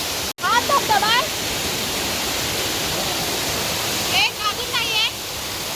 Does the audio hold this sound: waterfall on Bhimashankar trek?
yes